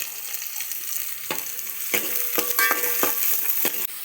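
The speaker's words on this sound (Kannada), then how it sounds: "ಉಳ್ಳಾಗಡ್ಡಿಯನ್ನು ಎಣ್ಣೆಯಲ್ಲಿ ನಾವು ಚೆನ್ನಾಗಿ ಗೋಲ್ಡನ್ ಫ್ರೈ ಆಗುವ ಹಾಗೆ ನಾವು ಫ್ರೈ ಮಾಡ್ಕೊಳ್ಳೋಣ." Onions frying in oil for shavige upma, with coriander and curry leaves going into the pan: a continuous crackling sizzle broken by several sharp stirring scrapes and clinks, heard close with no voices.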